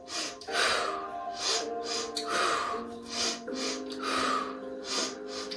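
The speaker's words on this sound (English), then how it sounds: "We have a double inhale, hold, press. Exhale, switch." Breathing during a Pilates exercise, with sharp double inhales followed by longer exhales repeating in a steady rhythm, close and fairly loud, with no talking over it.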